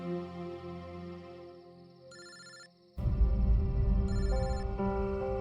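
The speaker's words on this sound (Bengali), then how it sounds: "ভেতর থেকেই তো রিং শোনা যাচ্ছে" A phone rings somewhere inside a locked house. An electronic ringtone repeats its stepped melodic tones, muffled at first, then swelling louder and fuller partway through.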